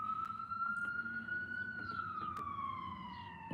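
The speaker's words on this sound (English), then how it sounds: "We got an ambulance." An ambulance siren wails, sweeping slowly up and down at a distance, fairly faint, over a low steady background hum.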